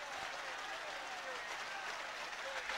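A football crowd at a 1993 Bristol Rovers–Portsmouth match applauds a goal. The sound is a distant, steady wash of clapping and crowd noise heard as if from afar, faint throughout.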